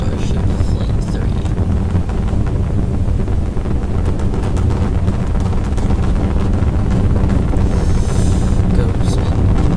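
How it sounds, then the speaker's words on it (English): SpaceX Starship Super Heavy booster on Flight 3 lifting off with all 33 engines lit, a loud, continuous, dense roar that fills the whole clip with steady rumbling and crackling. "liftoff of Starship Flight 3"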